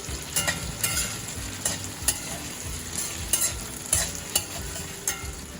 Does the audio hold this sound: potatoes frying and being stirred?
yes